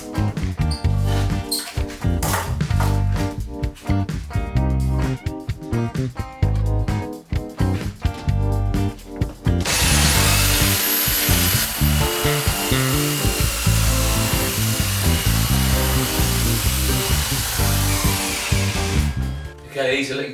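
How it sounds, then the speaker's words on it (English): A belt sander with rough-grade sandpaper grinds steadily across scrap wood outdoors, a continuous loud abrasive whine over the second half, preceded by shorter bursts and clattering handling noises. "sand it down outside with a rough grade sandpaper with my belt sander"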